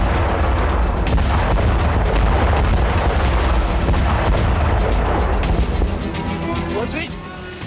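Heavy artillery fire and explosions in the Kharkiv region of Ukraine form a loud, continuous barrage. Overlapping booms and rumbling detonations pile up without pause, with sharper blasts cutting through the dense roar.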